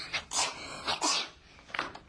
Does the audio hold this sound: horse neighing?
no